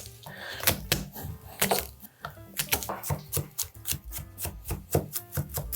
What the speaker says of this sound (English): just like we did for the shallots, we're gonna give those a good mince